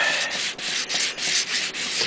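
Wet sanding on a logo inlay gives a steady abrasive rubbing, close and fairly loud, with regular back-and-forth strokes about every half second and brief dips between passes, with no talk over it.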